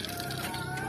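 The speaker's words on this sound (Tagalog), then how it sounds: "Ito po mga manok na to mga katrupa" A flock of chickens clucks steadily during morning feeding, a close, continuous murmur of fowl calls over a busy outdoor background.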